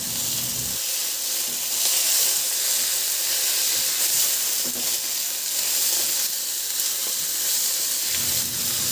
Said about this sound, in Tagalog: Igisa ko na rin yung sibuyas. Ilagay ko na rin yung kamatis.